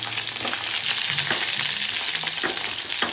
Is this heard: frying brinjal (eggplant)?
yes